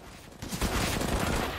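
Gunfire from CZ pistols in a CS:GO esports match, loud dense bursts of shots rising after a quieter start and continuing without pause to the end.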